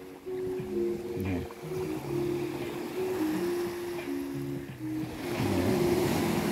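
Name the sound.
sea waves crashing on the shore at sunset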